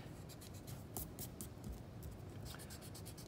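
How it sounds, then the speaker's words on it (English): A pencil eraser rubs briskly back and forth across paper in quick, faint strokes, heard close up in a quiet room. "Can see any pencil lines still, please erase that."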